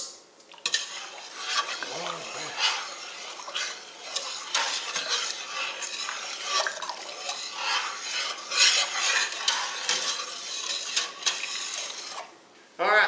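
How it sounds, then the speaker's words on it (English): A spoon scrapes around a metal pot as sugar is stirred into muscadine jelly. The rasping strokes come in a steady, continuous rhythm, close and fairly loud. "I'm going to stir it around. I'm going to make sure it don't stick on the bottom."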